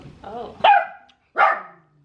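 A dog named Blue gives two sharp barks close by, a short pause between them, after a brief soft vocal sound from the dog.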